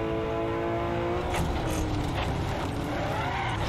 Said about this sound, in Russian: давайте специально сейчас врежусь